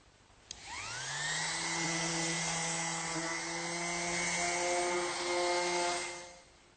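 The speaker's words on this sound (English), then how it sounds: "A little bit more fine sanding on this piece and it'll be ready for some finishing." Power sander doing fine sanding on a wooden drawer piece spins up with a rising whine, then holds a steady close droning hum for several seconds before winding down, with no talking.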